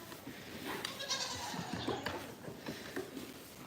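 Goats on a farm bleat amid shuffling and rustling close by, a couple of calls standing out over low background noise with no talk.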